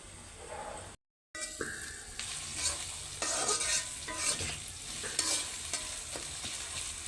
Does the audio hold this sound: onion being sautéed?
yes